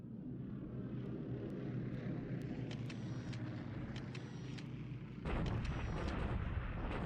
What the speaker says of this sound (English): Now the typical bombardment in China.